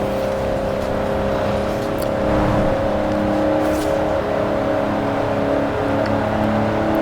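A 1992 GMC Typhoon in Forza Horizon 4 drones at sustained top speed, its engine holding a steady, loud, even tone without pauses or talk.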